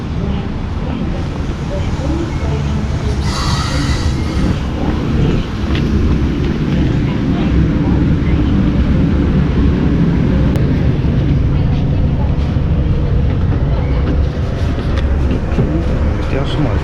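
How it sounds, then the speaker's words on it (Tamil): Train pulling into a station in the Blue Mountains, Australia: a loud, steady low rumble and rolling roar that builds and holds throughout, with faint voices in the background. "வந்துடுச்சு பாருங்க நம்ம ட்ரெயின்."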